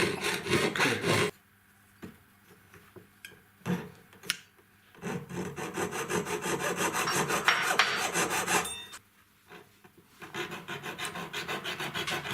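Hand saw cutting through a small metal earring blank at the jeweller's bench, with bursts of close, rasping strokes broken by short pauses.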